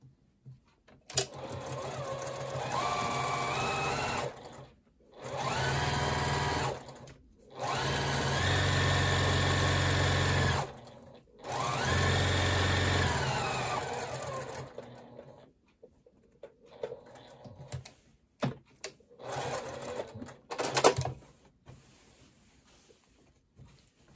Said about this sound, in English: and then start sewing again